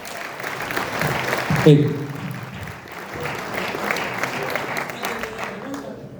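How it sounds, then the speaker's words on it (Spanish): An audience at a Bible sciences seminar claps for a man, applause rising under a speaking voice and a brief shout, then fading into crowd murmur. "Un aplauso para José Antonio."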